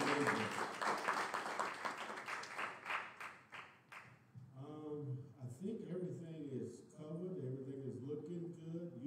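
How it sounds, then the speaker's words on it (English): A church congregation claps together in a burst of applause that fades after a few seconds, followed by someone speaking over a sound system. "Give Mount Zion a hand clap of praise"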